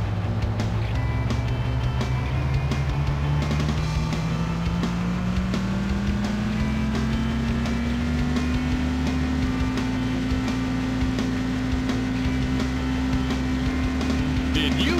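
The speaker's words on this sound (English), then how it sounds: "Gentlemen, start your engines" Car engines in the racing video game City Racing 3D drone steadily and loudly, the pitch climbing gradually as they accelerate, with a low rumble underneath throughout.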